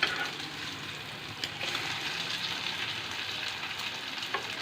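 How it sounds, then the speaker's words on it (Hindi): Shami kababs fry in hot oil with a steady, close sizzle and crackle that runs unbroken, a few sharper pops rising over the hiss. "हमारे कबाब फ्राई हो चुके हैं"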